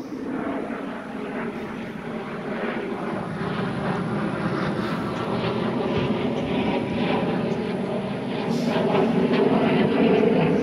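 A light aircraft, apparently on a training flight, drones overhead. The steady, broad engine hum lasts the whole stretch and grows slightly louder toward the end, with wind noise mixed in and no talking.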